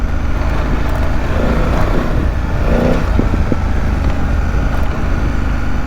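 A 2025 BMW F900GS motorcycle in second gear on an off-pavement mountain road, its engine a steady, loud, continuous drone with wind rush throughout.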